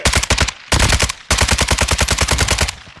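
Rapid gunfire in a video game firefight, loud and close, with automatic bursts of evenly spaced shots separated by two brief pauses and trailing off at the end.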